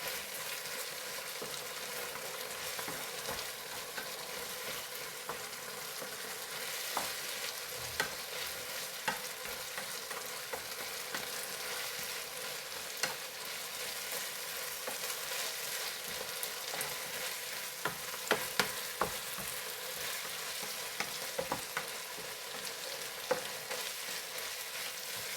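Chicken fried rice with pepper powder being stirred in a hot pan: a steady sizzle under continuous scraping and tossing, with sharper spoon clinks toward the end and no talking.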